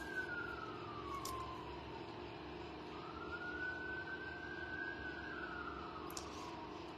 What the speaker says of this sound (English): I hear sirens, which is not uncommon in this neighborhood